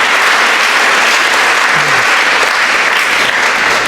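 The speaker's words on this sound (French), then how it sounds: "Ah, vous n'allez pas les applaudir." Loud, dense applause from a congregation at a Catholic Mass marking nuns' religious vows, sustained evenly throughout with no speech on top.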